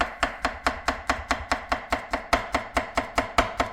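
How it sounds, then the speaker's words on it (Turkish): A knife chops a banana steadily on a cutting board, about four crisp strokes per second in an even rhythm, close and alone without any talking. "Ben bir parça daha doğrayacağım."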